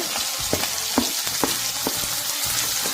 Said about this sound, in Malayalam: അപ്പൊ പൊരിച്ച് വെച്ച സെയിം ഓയിലിലോട്ട് തന്നെയാണ് ഞാൻ ഈ ഉള്ളി ഇട്ടെടുക്കുന്നത്